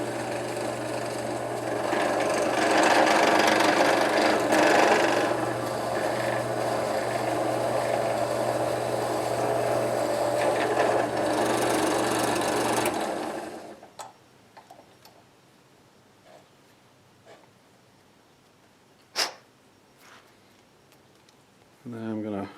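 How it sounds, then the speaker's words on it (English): A power drill whirs loudly and steadily for about thirteen seconds while drilling a hole in a bass fishing plug, then stops, leaving quiet room sound and a few small clicks and knocks. "So either use some tape on your drill, or if you have a drill press you can set it"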